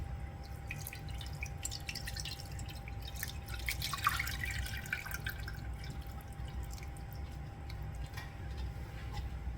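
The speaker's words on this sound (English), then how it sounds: "I have my cheesecloth here, and I'm just going to drain it" Honeysuckle liquid drains through cheesecloth for jelly-making, close, irregular drips and trickles pattering steadily against a low background hum.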